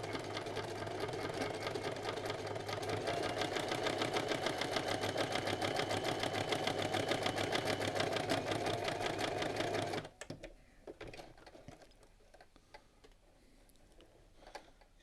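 Sewing machine running a fairly close straight stitch through fabric, a steady fast mechanical whir and needle patter heard up close for about ten seconds, then stopping into quieter handling noises.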